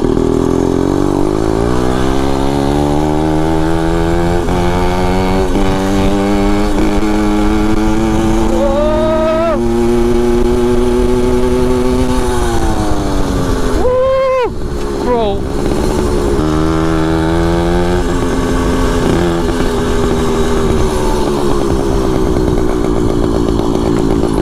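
Motorized bicycle engine running loudly and close, a raspy two-stroke-like buzz that revs up and down continuously, with rider talk mixed in.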